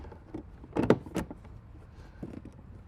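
A short cluster of plastic crackles and scraping thuds as a Thetford SmartTote 2 LX 27-gallon portable waste tank collapses, a few quick clattering bursts then a softer rustle, close and fairly quiet.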